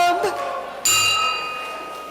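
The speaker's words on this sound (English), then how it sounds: "Just ring the bell." A single bell struck once at the start of a Rotary club meeting, ringing out clearly with a long, bright decaying tone after a brief spoken word.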